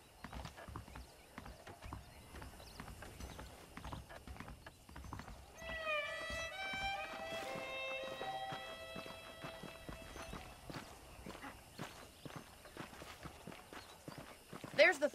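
Horse hooves clip-clop at a steady walking rhythm in the Red Dead Redemption video game, moderately close. A horse whinnies briefly and characters talk over the footfalls.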